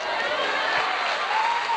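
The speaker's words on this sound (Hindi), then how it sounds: "प्रभु को जोरदार तालियों के भेंट दो" A church congregation breaks into loud, sustained applause at a Christian gathering, dense clapping filling the space evenly throughout with a murmur of voices underneath.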